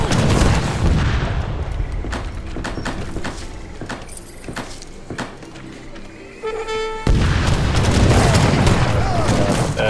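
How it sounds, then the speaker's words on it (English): Cannon fire in Age of Empires 3 Definitive Edition during a multiplayer battle, loud booming shots mixed with dense clattering combat noise that drops briefly and then surges back. "They got cannons."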